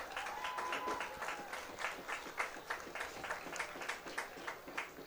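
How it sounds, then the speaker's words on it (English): An audience at a local high school football telecast in northwest Alabama gives guests a round of applause, many hands clapping steadily and evenly throughout at moderate loudness. "let's honor our guest and this achievement with a wonderful round of applause"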